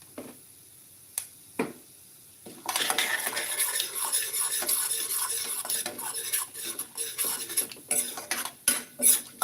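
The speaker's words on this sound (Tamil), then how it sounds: "எண்ணெய் சூடாயிடுச்சு இது வெங்காயமும் பச்சை மிளகா கருவேப்பிலை இதில் போட்டுடலாம்" Onion, green chili and curry leaves hit hot oil for rava upma: after a quiet start with a couple of clinks, a dense, steady sizzle rises and continues close up, with utensil clatter over it.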